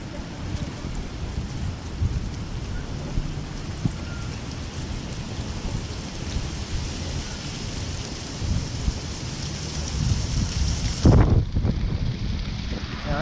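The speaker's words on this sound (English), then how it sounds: "That wind picks up, boy, these leaves go nuts." Strong wind gusting through trees and tossing dry leaves around on an outdoor street in autumn, a steady rushing rustle that swells near the end, with no talking.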